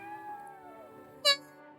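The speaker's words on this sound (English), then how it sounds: "Oh, the cat. Is the cat? It's the cat." A cat in the video game Triangle Strategy lets out a single short, clear meow near the end over quiet background tones.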